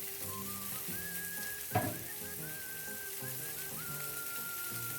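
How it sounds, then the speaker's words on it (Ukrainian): Steady sizzling of bream steaks frying in a covered pan over medium heat, a constant crackling hiss throughout with one brief louder pop midway. "смажу рибку на середньому вогні під кришкою по 5-7 хвилин з кожного боку"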